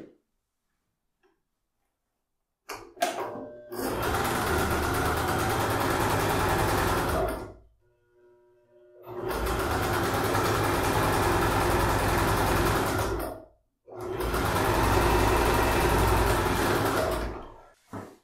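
Sewing machine stitching a bag seam, running in three sustained bursts of rapid, close mechanical ticking and motor hum, separated by short pauses of near silence.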